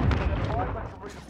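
A grenade going off in the Warzone shooter game: a short, heavy low thump right at the start that quickly fades under a player's voice talking over it.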